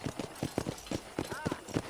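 Horse hooves clip-clopping in Red Dead Redemption, a quick steady trot of close, distinct thumps roughly every fifth of a second, with a person talking over them.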